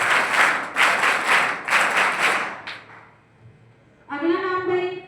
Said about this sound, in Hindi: पुनः बड़ी ताली शुरू।